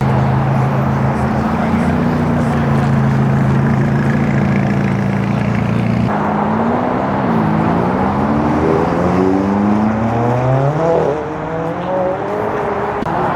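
A supercar at a car meet accelerates away loudly and close, its engine holding a steady high drone before rising through several climbing revs as it pulls off, then fading a little.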